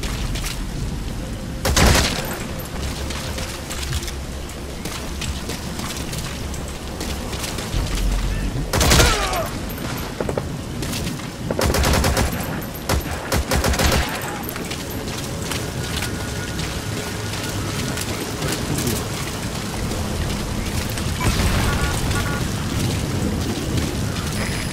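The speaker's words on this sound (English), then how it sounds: "they're hearing the gunfire now" Bursts of gunfire crack out repeatedly over a dense, rumbling battle din in Metal Gear Solid V, some shots loud and close, with voices talking underneath.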